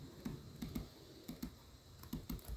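Quiet typing on a computer keyboard: irregular clusters of light key clicks, some in quick pairs, over a low room hum, with no voices.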